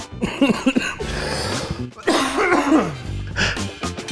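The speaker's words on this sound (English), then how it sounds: "that's when you're coughing, so you're going to have to edit that out" Someone coughs in a few harsh, close bursts, with throat-clearing sounds between them.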